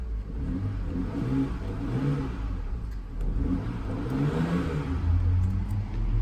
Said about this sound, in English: So there it is, the car is running nice and healthy.